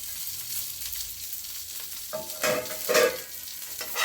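Curry leaves, small shallots and half a grated coconut fry in a pan for Chettinad egg gravy, giving a soft steady sizzle with a few louder stirring scrapes near the end.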